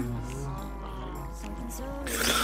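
Cows lowing in Minecraft, several drawn-out moos in a row over a low steady hum, with faint game noise and a louder burst at the end.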